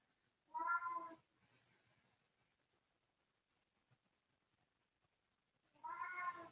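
A domestic cat meows twice up close during a quiet, relaxed yoga session, each meow loud and drawn out, separated by several seconds of near silence.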